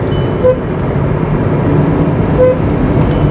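A VW Polo 1.0 TSI with a manual gearbox pulls hard in 4th gear after a downshift from 6th, a close, steady low engine drone under road and traffic noise, with faint brief tones from a horn or chime.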